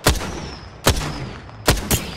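Gunfire in the Apex Legends video game: four sharp, loud shots in quick succession, the last two nearly back to back, each with a booming low tail over a steady game background.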